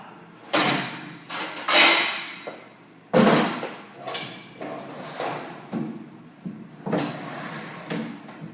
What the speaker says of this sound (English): Once it's done, pull the drawer out.